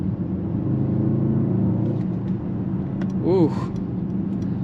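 A 2025 Mercedes-AMG GLE 63 S Coupe with a 603 hp V8 drones with a deep, steady engine rumble heard from inside the cabin, and a voice briefly exclaims partway through.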